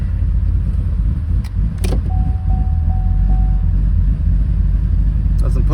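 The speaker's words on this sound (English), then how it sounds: "It's got a little chop to it, but it's going through the stock mufflers." A 2019 Chevrolet Silverado engine idling with a slight choppy lope through stock mufflers, a steady loud exhaust rumble close by that runs the whole time, with a brief mechanical clunk partway through.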